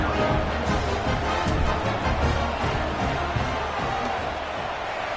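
A home football stadium crowd roars and cheers in a dense, steady wash of noise at a college game, with no clear individual voices.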